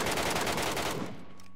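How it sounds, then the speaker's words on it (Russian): Rapid bursts of gunfire from PUBG Metro Royale, a dense rattling volley that runs for about a second before cutting off to near silence. "случайно на выстрел нажал"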